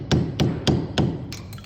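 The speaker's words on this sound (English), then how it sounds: "hit the bottom of the wrench and then kind of tap it up over" A hammer taps a wrench on an FW190 landing-gear strut during an overhaul, giving four sharp, evenly spaced metallic strikes up close, then a few fainter ticks.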